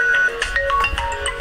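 A phone rings unanswered in a village, giving a short, loud electronic ringtone melody of repeated tonal notes with no voices over it.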